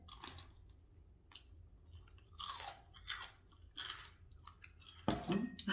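Quiet, close crunchy chewing while eating Vietnamese roast pork noodles (bún thịt quay), in scattered bites with a few soft clinks of utensils.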